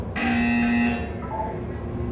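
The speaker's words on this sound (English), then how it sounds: "When you hear the buzzer, look down at the floor." A single flat electronic buzzer from the Portal 2 video game sounds clearly for just under a second, then stops and leaves a quiet tonal tail and low room noise.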